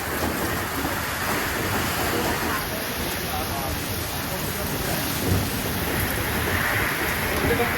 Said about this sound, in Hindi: तो आप सब देख सकते हो कि कितनी तेज बारिश हो रही है।